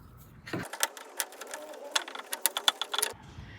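A Worksport AL4 aluminum tonneau cover clamp being tightened down on a pickup bed, a quick run of close, sharp ratcheting clicks and metallic ticks lasting a few seconds, with no talking.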